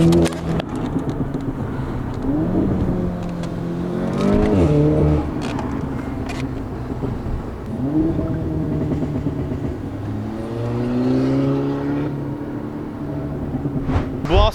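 A car with no exhaust fitted revs repeatedly on a street, its rough engine rising and falling in several swells over a steady running drone, close and loud throughout.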